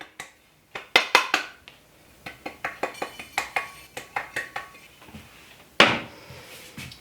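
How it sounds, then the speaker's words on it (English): Gluten-free flour shaken into a greased baking pan, with a string of light rhythmic taps and knocks against the pan and a louder clatter near the end. "And then you just dust your pan. I just sprinkle some in."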